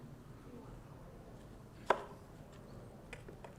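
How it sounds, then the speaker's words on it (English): A knife cutting an onion into julienne strips on a board, with one distinct sharp chop standing out among faint softer cuts in a quiet kitchen. "We're going to cut the onion, julienne onions."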